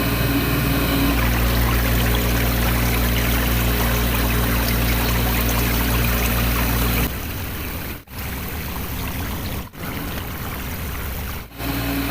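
Water runs and trickles steadily over the evaporator of a Hoshizaki ice machine with a separated evaporator and uneven flow, a continuous wash that drops to a thinner, quieter stream partway through, broken by a few brief gaps.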